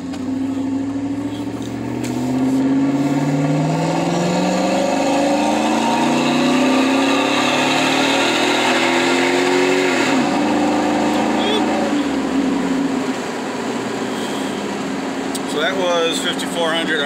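A car engine fitted with a Carven R muffler revs with the windows down, heard from inside the cab as a steady droning exhaust whose pitch rises and falls, with a sharp drop near the middle before climbing again.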